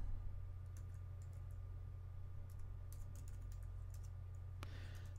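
Rapid, light keystrokes on a computer keyboard come in short bursts while code comments are typed, quiet and close over a steady electrical hum, ending with a sharper click.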